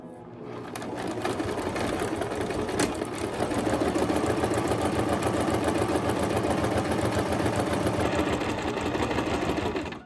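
A sewing machine stitching fabric for a quilted pine needle pillow, starting after a brief pause into a steady, loud, rapid mechanical whir that runs continuously and close.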